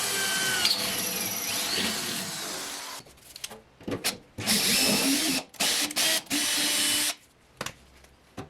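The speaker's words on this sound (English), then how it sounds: "So I'm just drilling and tapping and bolting it" A power drill whirring into the metal frame of a custom truck bed on a Ford F100 in several bursts, a long steady run then shorter stop-start pulses, close and loud.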